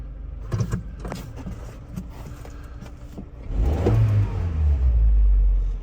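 A 1995 Geo Tracker engine idles in gear with a low, steady rumble close by, then swells noticeably louder and rougher past the midpoint before settling into a heavier drone.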